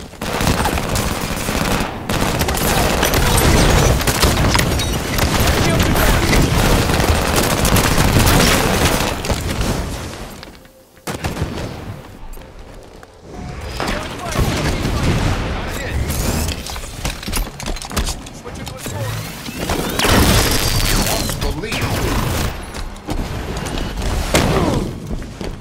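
Loud, sustained gunfire from Halo 5 gameplay: bursts of rapid automatic fire and booming blasts with barely a pause, apart from a brief lull near the middle.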